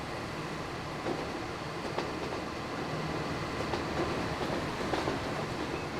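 Class 321 electric train cab ride in the Transport Fever video game, a steady rumbling roll of wheels and motor with faint periodic rail clicks, continuous and moderately loud, with no talk.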